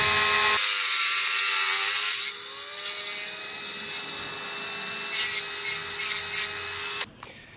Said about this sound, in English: we'll cut the end off that axle.